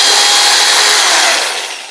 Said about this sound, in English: We almost always drill pilot holes.